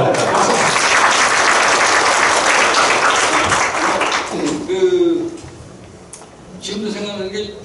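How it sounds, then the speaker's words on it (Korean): Audience applause at a retirement lecture, a dense sustained round of clapping that fills the room before tapering off, with voices and murmurs rising as it fades. "박수."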